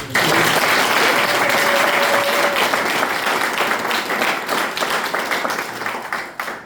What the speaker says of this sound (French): Applaudissez juste.